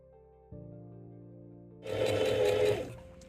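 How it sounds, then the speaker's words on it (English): A sewing machine stitches a linen bread bag seam, starting after a steady motor hum with a short, fast burst of close needle chatter lasting about a second. "Lower my needle, a nice little back stitch to hold it in place, and sew down to the bottom."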